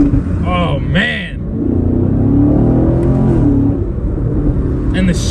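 A muscle car engine accelerating hard, its deep, close rumble swelling and holding steady for several seconds, with a short voice-like burst near the start.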